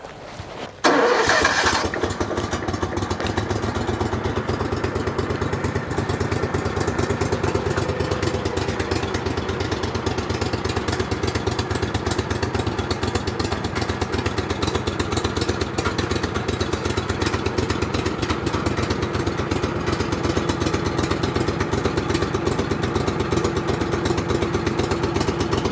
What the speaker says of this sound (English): You can hear it's a diesel engine he's got.